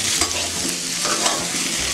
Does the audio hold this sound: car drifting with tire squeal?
no